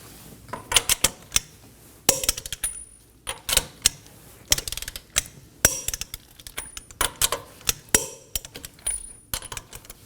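Sharp metallic clicks of a torque wrench tightening sway bar link bolts on a 2015-2023 Nissan Maxima, arriving in quick irregular bursts of several clicks separated by short pauses, close and clear, with no talk.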